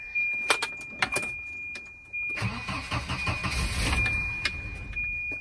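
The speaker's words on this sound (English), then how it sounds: "Let's start it up and see how it sounds." A Volvo 240 starts up after an exhaust repair: a few sharp clicks and key jangles, a steady whine, then the engine cranks and catches into a close, rough, rumbling idle.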